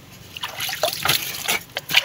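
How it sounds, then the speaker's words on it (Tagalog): Spring water trickles from a mountain source, close and bright with irregular splashing, dribbling pulses and drips over two seconds. "Bukal ito guys sa bundok to."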